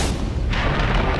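A heavy fireworks-style boom bursts from a Bond movie trailer, a deep loud blast followed by a broad rumbling wash with no speech.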